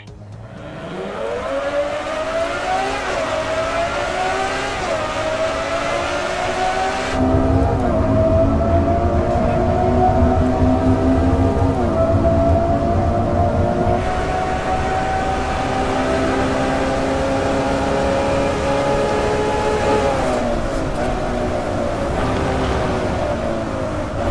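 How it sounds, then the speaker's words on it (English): A high-revving Ferrari engine in a racing video game roars continuously, its pitch climbing and shifting through gear changes, loud and close with no talking. "a Ferrari thundering down a track"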